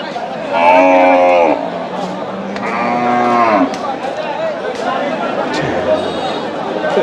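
Cattle low and moo loudly at a busy cattle market in Panchagarh, with two long, drawn-out calls up close and a rumble of crowd chatter and voices filling the background throughout.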